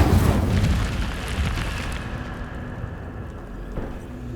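An Incendio fire spell is cast in Hogwarts Legacy, a loud whooshing burst of flame at the start that rumbles and fades into a crackling, decaying roar, no voices.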